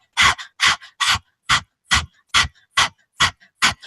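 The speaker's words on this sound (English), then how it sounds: "stick out your tongue and just start panting like a dog." A person panting like a dog with tongue out, about nine quick, breathy huffs in an even rhythm, close and clear with silence between.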